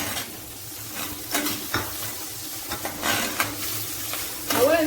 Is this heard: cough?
no